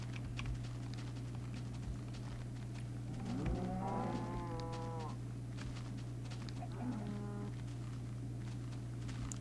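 Cows moo in a farming video game: two drawn-out, tonal moos, the first longer and the second shorter a few seconds later, heard over a steady background hum with soft keyboard-like clicks.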